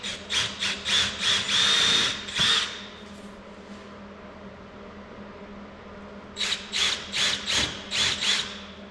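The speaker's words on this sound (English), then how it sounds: "I'm going to drill the 3 holes in this before I put the felt on" A power drill bores screw holes, heard as two loud, close bursts of rapid, pulsing, high whine separated by a quiet pause of several seconds. No one speaks.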